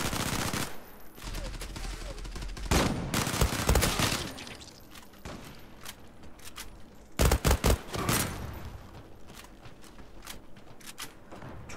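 Rapid automatic gunfire from a gun emptying its magazine in the shooter game Zula, dense bursts of shots in several clusters, loudest in a tight volley midway, with someone talking between bursts.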